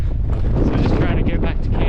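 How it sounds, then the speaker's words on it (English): Strong wind on a hike in the remote Australian Alps buffets the microphone with a loud, steady rumble and roar for a couple of seconds. "It is windy as bugger all"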